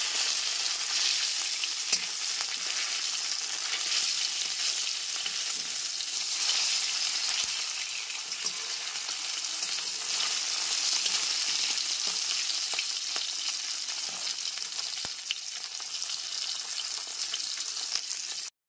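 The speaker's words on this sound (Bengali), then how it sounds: "মাছের পিসগুলো দেওয়ার পর গ্যাসের ফ্লেমটা হাইতে করে মাছগুলো এপিট ওপিট করে লাল করে ভেজে নেব।" Steady, loud sizzling of catla fish pieces frying in hot oil over a high gas flame, a continuous crackle with occasional small pops, no voices.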